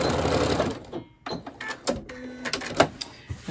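A sewing machine runs in short bursts while back stitching pockets on a reversible child's apron, with brief stops and restarts between stitches, close and fairly loud.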